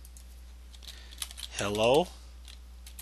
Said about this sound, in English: we're going to type our text